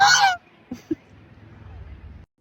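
A single loud, harsh goose honk up close, followed by quiet rustling and a couple of soft thumps.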